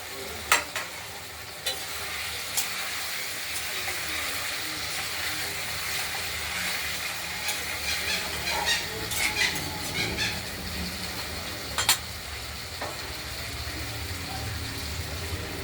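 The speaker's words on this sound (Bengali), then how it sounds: "পটল দিয়ে নেড়ে চেড়ে তারপর দেওয়া দিচ্ছে" Pointed gourd (potol) frying in a pan with potatoes for a spicy curry, stirred with a spatula: a steady sizzle under repeated scraping and clacking strokes, close and fairly loud throughout.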